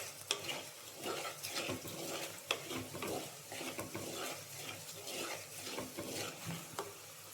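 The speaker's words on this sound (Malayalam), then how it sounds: "ഇത്രയും സാധനങ്ങൾ ഇട്ടിട്ട് നന്നായിട്ടൊന്ന് ഇളക്കുക." Spice powders fry in a pan and are stirred steadily, a continuous quiet sizzle mixed with rhythmic scraping strokes and a few sharper utensil knocks, heard close with no speech.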